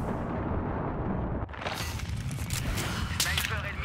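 Battlefield 3 gameplay on Sharqui Peninsula: a dull, rumbling in-game explosion followed by crackling bursts of gunfire, mid-loud, with faint talk underneath.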